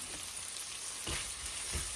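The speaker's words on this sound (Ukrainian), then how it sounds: "І ось так гарнесенько тепер обсмажуємо буквально одну хвилиночку разом із цукром" Chopped rhubarb frying with sugar in a pan, a continuous close sizzle with a few soft stirring scrapes, no talking.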